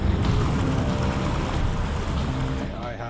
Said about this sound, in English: Water is coming in through here.